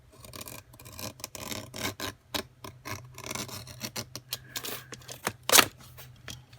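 Wooden board being cut by hand, heard as a run of short rasping strokes in an uneven rhythm, fairly quiet and close, ending in one sharper scrape.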